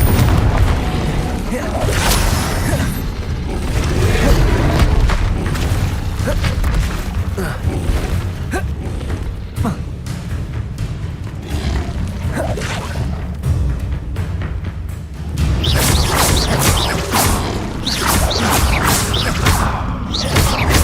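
Repeated booming spell blasts from the Confringo charm in the video game Hogwarts Legacy, loud and continuous with whooshes, crashes and thuds layered over dense game noise, while a voice talks at times.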